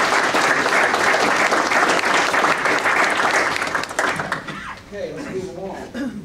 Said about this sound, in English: let's give Officer Howard a round of applause